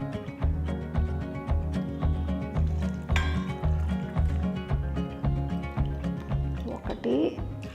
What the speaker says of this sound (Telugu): అందుకని దీంట్లో నేను 3 కప్పులు నీళ్లు పోస్తున్నాను.